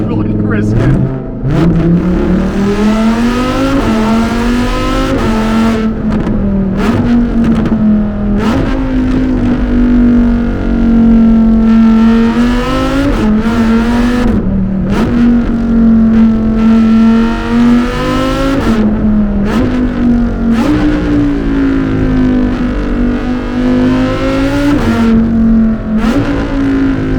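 A Lamborghini Huracan EVO engine holds a steady, loud drone with rising and falling revs, with voices talking over it throughout.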